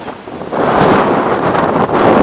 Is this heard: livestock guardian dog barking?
no